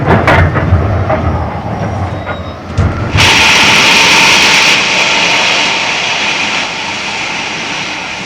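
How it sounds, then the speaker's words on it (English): A train slowing down, heard from inside as a loud continuous rumble and hiss that swells suddenly, then holds steady with a gradually easing roar. "The train's slowing down."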